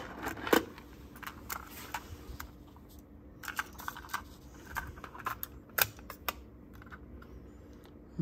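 A Revox B710 deck being handled as its tape is changed: scattered sharp plastic clicks, clacks and taps of the cassette and mechanism, close by and irregular, with quiet gaps between.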